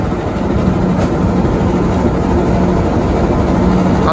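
A train locomotive at a station with a new-generation stainless steel trainset, its heavy engine giving off a steady loud rumbling drone with a constant low hum.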